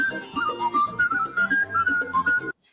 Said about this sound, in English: I don't like the whistling in the drums.